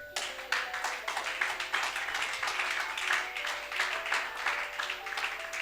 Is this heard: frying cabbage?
no